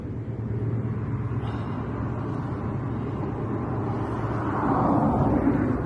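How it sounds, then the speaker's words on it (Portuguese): A car accelerates along a dirt road on Technic tyres, its engine holding a steady, close low roar with road rumble that grows slightly louder toward the end. "E eu vou sair agora e vou acelerar na estrada de chão ali."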